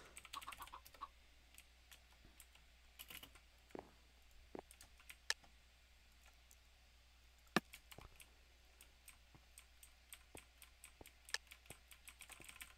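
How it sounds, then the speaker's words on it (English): Faint, sparse keystrokes and clicks on a cheap mechanical computer keyboard during a Skywars game, scattered irregularly with a few sharper taps over a low steady hum. "The mechanical keyboard sounds so nice."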